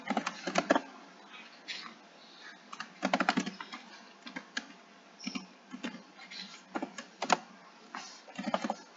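Keys clatter on a computer keyboard while a command is entered into Maple math software, coming in quick bursts of clicks with short pauses between them, close up and moderately loud, with no voice.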